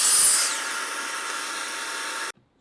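A power saw cuts through a plywood sheet with a loud, steady whine that runs about two seconds after a brief harsh start, then stops abruptly.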